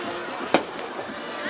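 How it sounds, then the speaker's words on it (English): Fireworks after a high school football game in Cedartown: a sharp pop followed by a softer second burst, heard faintly over the steady murmur of an outdoor crowd. "as the fireworks go off here in Cedartown"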